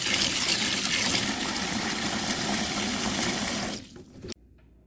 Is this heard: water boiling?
yes